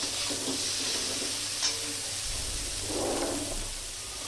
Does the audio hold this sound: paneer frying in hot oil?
yes